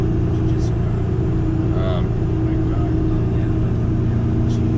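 Cummins 10.8 liter diesel truck engine running through a straight-through muffler, a steady deep rumble and drone held close and loud from start to finish.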